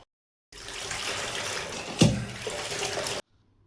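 Running water from a tap pours steadily while dishes are washed, a continuous broadband splash with one sharper clatter or splash midway, fairly close and without talk.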